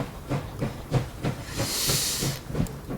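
A steam locomotive in the game Last Train Home chuffs in steady rhythmic puffs about every third of a second, with a hissing burst of steam swelling midway through, moderately close and with no voices.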